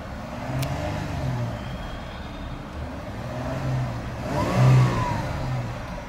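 A 2012 Jeep Wrangler Rubicon engine idling and then revving up in a couple of bursts, the loudest rev near the end, heard close with no talking.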